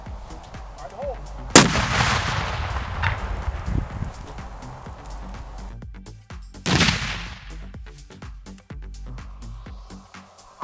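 Two detonations of a 3D-printed explosive shaped charge ring out outdoors, a sharp blast followed several seconds later by a second heavy boom, each with a rolling tail and scattered crackling debris.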